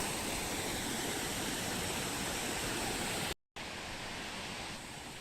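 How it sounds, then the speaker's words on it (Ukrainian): A waterfall in Glencar valley, County Sligo, Ireland, gives off a constant bright rushing hiss that cuts out for a split second and then resumes slightly softer. "В такому мальовничому місті знаходиться цей водоспад."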